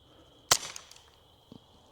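An Arcturus Osprey airsoft gun fires tracer BBs, a single sharp crack followed by a brief rattling tail, then a faint second tick a second later, close and alone over quiet background hum.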